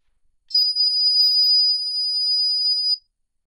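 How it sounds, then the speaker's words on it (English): An ultrasonic tone pitched down to audible range: a single flat, high-pitched electronic tone holds steadily for about two and a half seconds, then stops abruptly, with silence on either side. "it sounds more of like a flat single tone"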